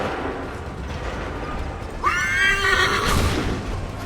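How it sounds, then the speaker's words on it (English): A horse in the Assassin's Creed 3 video game gives a loud, wavering whinny in the second half, rising sharply and trailing off over a low mechanical background with faint hoof clatter. "Your horse neighs a little bit."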